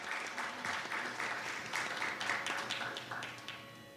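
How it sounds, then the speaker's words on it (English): An audience at a Bharatanatyam arangetram applauds dancer Valli after an abhinaya demonstration, a steady wash of many hands clapping at moderate loudness that fades slightly toward the end. "Let's give Valli another round of applause for that beautiful demonstration of Abhinaya"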